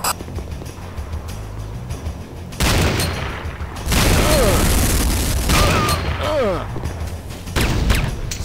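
Bursts of gunfire and booming blasts in C&C Renegade come in waves, loud and near, with a few whistling sweeps between volleys.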